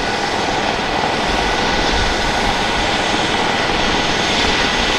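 A steady, loud engine roar drones continuously without letup, broadband and close: the engines of an Airbus H145 rescue helicopter warming up.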